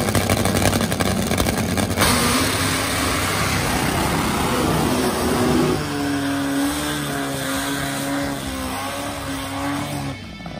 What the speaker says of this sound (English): this is the home of the world's quickest and fastest motorcycle